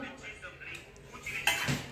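A spoon clinks and scrapes against a metal pot of kheer in a few short, close scratches that end in a sharper clatter, with faint room sound around them.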